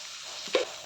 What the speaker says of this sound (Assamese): বিলাহীখিনি ভালদৰে ভাজিব লাগিব কেঁচা কেঁচা ভাৱটো যাব লাগিব